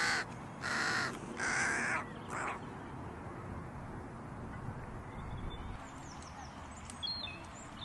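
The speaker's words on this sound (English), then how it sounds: "there are plenty of rooks and jackdaws feeding" Rooks and jackdaws call near a rookery in trees while feeding on a lawn in Basingstoke in April, with loud harsh caws in two bursts at the start, then fainter chatter from the flock over steady outdoor background noise.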